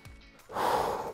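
A person catches their breath during a rest between home dumbbell leg and core exercises: a short sharp intake, then a longer, louder rushing exhale, close to the mic with no speech.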